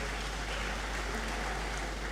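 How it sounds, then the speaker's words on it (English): An audience claps steadily at an academic awards ceremony, a dense, even wash of applause heard from some distance with a low hum underneath. "A round of applause for Ms."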